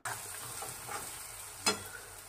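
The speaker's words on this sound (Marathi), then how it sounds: "कांदा वगैरे शेंगदाणे एकदम छान तळले जात आहे।" Onions and peanuts fry in a kadhai, giving a close, steady sizzle with soft stirring scrapes and one sharper clink of a spoon near the end.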